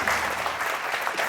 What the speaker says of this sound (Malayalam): നമുക്കൊരു വലിയ കൈയടി കൊടുക്കണം.